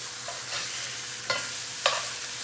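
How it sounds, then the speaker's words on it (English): Onion frying in hot oil gives a steady close sizzle and crackle, with two sharp brief spatters rising above the hiss; no talking. "I'm gonna test it with a small one on the oil."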